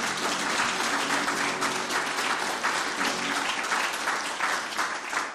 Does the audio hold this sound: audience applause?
yes